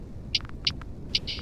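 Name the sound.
lo-fi beat hi-hats alone, quintuplet swing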